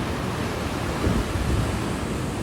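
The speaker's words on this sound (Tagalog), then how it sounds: "Alon lang talagang maririnig." Strong waves crashing on a beach, a loud continuous wash of surf roaring up close with a slightly heavier surge in the middle, no talking.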